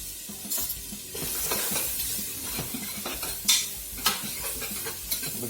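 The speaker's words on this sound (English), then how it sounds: "We're just going to saute that off until the onion's soft, the ginger's started to soften." Onion, ginger and whole lemongrass sauté in a pot with a quiet continuous sizzle, broken by stirring scrapes and a few sharp utensil clinks against the metal.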